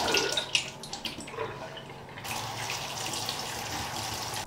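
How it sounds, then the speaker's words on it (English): Water splashes over canned chickpeas being rinsed, first as uneven bursts and drips, then as a steady, fairly close stream of running water. "And now I'm going to open, rinse and add my chickpeas"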